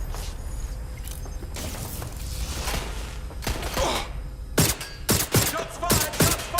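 Rapid bursts of gunfire ring out in the Watch Dogs video game, scattered at first and then a dense cluster of loud, sharp shots near the end, layered over game ambience and soft breathing.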